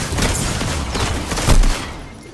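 Hand cannon fire in a Destiny 2 custom match, heavy booming shots blending into a loud, continuous wash of combat noise with one stronger blast near the end.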